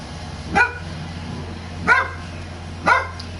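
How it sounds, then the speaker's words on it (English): Puppies in the background give three sharp, yipping barks, evenly spaced about a second apart. They sound moderately close and carry clearly over a steady low hum, with no talk. "Got puppies in the background."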